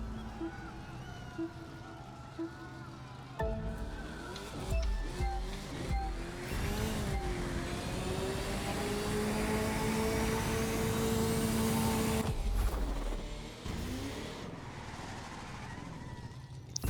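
A car accelerating hard with boost in The Crew 2 racing game on a short track, engine tone climbing through gear changes into a long sustained high-speed whine before shifting again.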